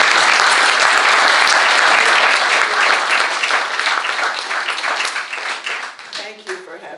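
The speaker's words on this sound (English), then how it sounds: "So let's give her another round of applause." An audience gives a sustained round of applause, dense clapping filling the room at a steady level before thinning and fading toward the end as a voice begins to speak.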